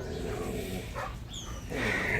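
Dog-aggressive dogs give brief yips and whimpering barks, fairly close, separated by short pauses and ending in a louder burst.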